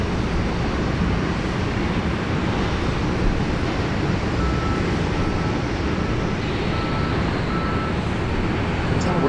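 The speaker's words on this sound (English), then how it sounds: "Our next arrival here is Jetstar 783 coming in from the beautiful Sunshine Coast up there just north of Brisbane." A Jetstar passenger plane arriving at Sydney Airport from the Sunshine Coast, a loud, steady broadband jet roar that holds evenly throughout with no voices.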